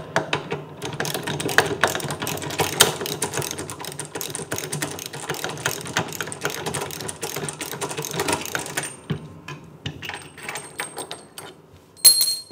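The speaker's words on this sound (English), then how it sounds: "So you remove the bolts using a socket wrench." A socket wrench ratchets bolts off a grand piano leg with a continuous fast clicking, steady and close through most of the clip, then slows to sparse clicks near the end.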